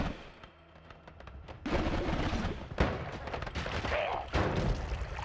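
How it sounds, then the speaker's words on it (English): Explosion in a wizard-themed video game, a loud booming blast followed by crackling debris and continued rumbling bursts, close and dense. "Oh, I'm so glad for the explosion."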